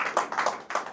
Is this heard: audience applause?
yes